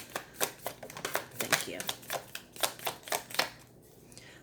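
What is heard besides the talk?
shuffling a tarot card deck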